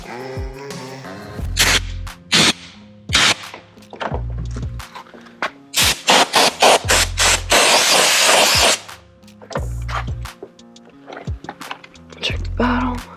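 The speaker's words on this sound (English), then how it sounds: "And on really dusty days, whenever I blow in here, a lot will come out." Compressed air blasts dust out of an RC car in short, loud, close bursts, one long hissing spray in the middle, separated by clicks and knocks of handling the car.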